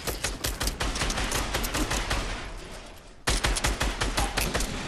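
Near-continuous automatic gunfire rattles through a video game firefight, loud and rapid. It dips briefly, then a fresh burst of shots resumes. No one talks.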